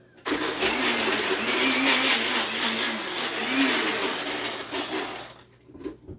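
Kitchen machine finely chopping hard ginger with no water added, a loud steady whirring grind that runs for about five seconds and then cuts off sharply.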